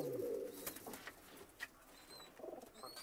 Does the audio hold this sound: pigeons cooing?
yes